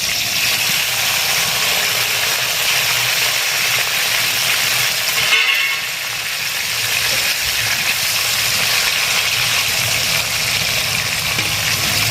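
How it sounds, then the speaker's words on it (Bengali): Paneer frying in a pan for a paneer biryani, giving a steady, loud broadband sizzle and hiss that holds evenly throughout with a brief dip midway. "আগে আমি পনিরটা ভেজে তুলে নেব"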